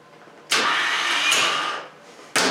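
A car starter motor is bench tested and whirs loudly for about a second and a half, then cuts off. A second burst starts just at the end. It is close, steady and high-pitched, with no talk.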